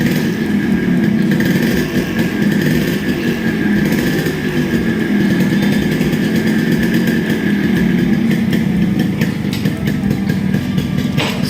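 Yamaha RX100 motorcycle accelerating in second gear, a loud, continuous, buzzy two-stroke engine drone held at steady revs, close up, with no talk.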